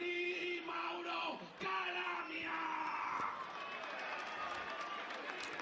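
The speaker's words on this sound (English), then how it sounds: "playing to the crowd, and it's a big crowd down there" Large crowd cheering and yelling at a GT2 European Series race podium ceremony in Valencia, a steady, dense wash of shouts and whoops from a distance with scattered louder calls, no clear speech.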